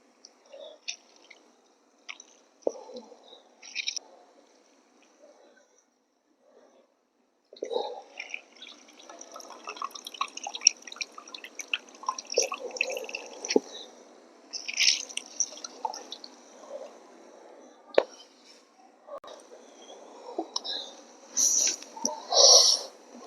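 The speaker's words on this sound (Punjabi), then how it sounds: "ਇਹਨੂੰ ਨਿਚੋੜ ਕੇ ਆਪਾਂ ਜੱਗ 'ਚ ਪਾਵਾਂਗੇ" Cooled, boiled spinach is squeezed by hand so its water trickles into a jug in a village kitchen, giving faint, intermittent drips and soft squishes spread across a quiet stretch.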